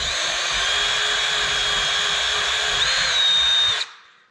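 A loud power drill with a dull 3/16 inch bit whines steadily up close for nearly four seconds, pitch shifting slightly near the end before it cuts off abruptly.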